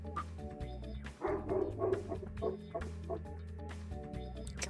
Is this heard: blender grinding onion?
no